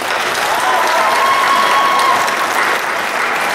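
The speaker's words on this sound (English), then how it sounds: "I would like to give another round of applause and just thank them for all the work that they did" A round of applause at a community session, a loud, dense, sustained clapping from a crowd that holds steady for several seconds.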